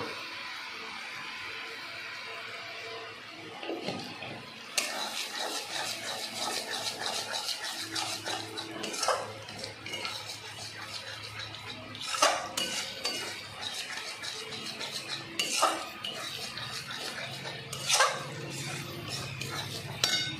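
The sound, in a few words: spoon stirring masala in a pan until the oil separates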